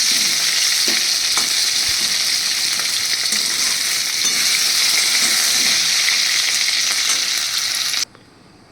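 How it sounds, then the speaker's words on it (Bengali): Potatoes and taro pieces frying in a pan of oil, a loud, steady, close sizzle with faint stirring clicks that runs for about eight seconds and then cuts off abruptly. "আলু আর কচুগুলো দিয়ে দিচ্ছি এই তেলটার মধ্যে"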